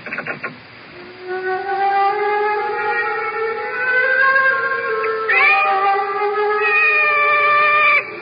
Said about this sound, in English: The cat's awake.